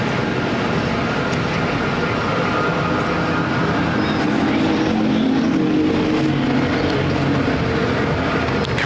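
Factory stock cars race in a heat at Perris Auto Speedway, a dirt oval, their engines blending into a steady, dense roar that holds at constant loudness throughout, with no clear voices above it.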